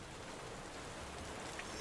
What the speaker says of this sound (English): Seems we're in for a rainy night.